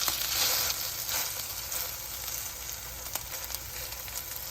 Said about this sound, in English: I like to pan fry them for about 5 to 6 minutes